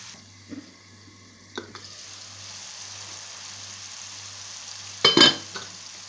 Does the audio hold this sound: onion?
yes